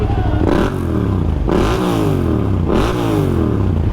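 A motorcycle engine revs up loudly three times, each throttle blip rising then falling back to a rumbling idle, close by.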